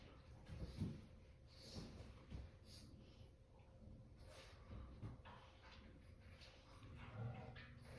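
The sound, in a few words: dogs barking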